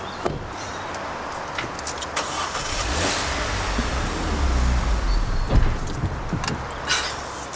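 A car starting up for a driving lesson, with a door thump and clicks followed by a low engine rumble that settles into a steady idle, under light outdoor ambience.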